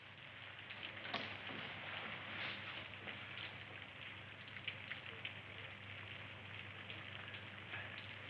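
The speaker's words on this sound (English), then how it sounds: "It's kind of cold out there in the rain." Rain falls steadily outside on a cold night, a soft, even hiss of drops on surfaces with faint scattered patters, continuous and fairly quiet.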